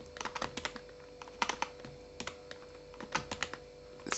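Irregular bursts of keystrokes on a computer keyboard while code is typed in a quiet room, with short pauses between clusters of clicks.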